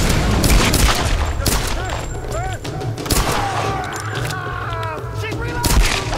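Dense gunfire and explosions during combat in the Tomb Raider Definitive Edition video game, loud overlapping shots and thuds in a busy mix, with someone talking excitedly over the action.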